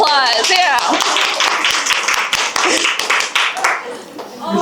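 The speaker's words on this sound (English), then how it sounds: "A round of applause." A small group claps in quick, uneven bursts close by while people talk and exclaim over it, and the clapping thins out toward the end.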